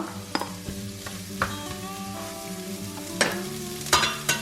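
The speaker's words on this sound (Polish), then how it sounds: "I teraz do masła dodam od razu czerwoną cebulę, którą pokroiłam w kostkę." Diced red onion frying in butter for keema curry, a soft steady sizzle broken by sharp clicks and scrapes of a spoon stirring the pan, with a faint tonal hum underneath.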